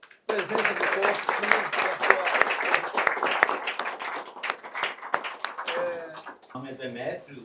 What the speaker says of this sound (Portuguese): Uma salva de palmas por presença do posto.